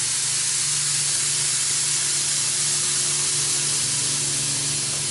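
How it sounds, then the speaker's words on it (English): A truck's air suspension bag dump releases air in a loud, steady hiss that lasts the whole stretch, close and constant with no talk over it. "the switch on the end here is the bag dump"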